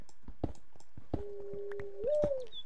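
Owl mob from a Minecraft tech modpack gives a steady hooting call, a low held tone that bends upward near the end, over scattered soft clicks and game blips.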